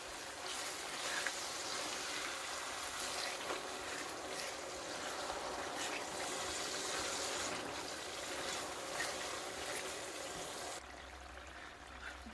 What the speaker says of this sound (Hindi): तो इसको पानी लगाते जाएंगे और भूनते जाएंगे।